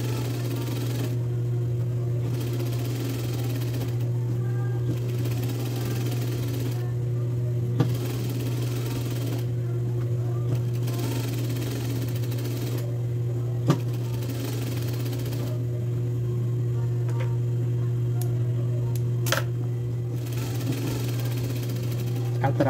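A sewing machine stitches a seam on a woman's blouse, its motor humming steadily and loudly in long runs that pause and restart, close up, with occasional clicks.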